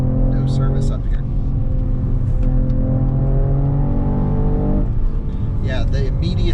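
A 2021 Mercedes E53 AMG Cabriolet engine revs and pulls hard while driving through hilly roads, with a loud sustained drone that rises and dips, and a voice talking over it.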